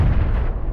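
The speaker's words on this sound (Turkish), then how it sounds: "Bomba geldi oraya. Bombayı ben attım." Grenade blast in PlayerUnknown's Battlegrounds on the Sanhok map: a single loud, deep boom with a low rumbling tail that fills the whole short moment.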